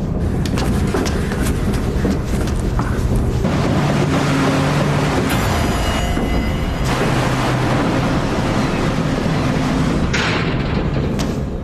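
Seawater rushes and roars across the flooding car decks of the sinking ferry Estonia, a dense, continuous churning wash with no pauses, loud and close.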